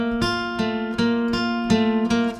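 An acoustic guitar strums chords in second position, with five or six crisp, evenly spaced strokes, each ringing briefly before the next, up close and alone.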